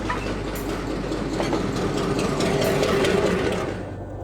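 Southern Railway locomotive number 6133 pulling a museum train along the track, a steady close rumble with rhythmic clicking of wheels over rail joints, fading slightly at the end.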